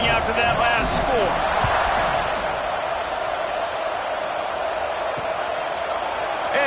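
A college football stadium crowd keeps up a loud, steady roar that fills the whole stretch, while a commentator talks over it near the start.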